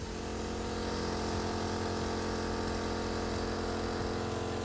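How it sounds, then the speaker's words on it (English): A Mayku Multiplier's compressor runs with a steady, even mechanical hum, droning continuously at moderate level with no voices over it. "the compressor has now switched back on"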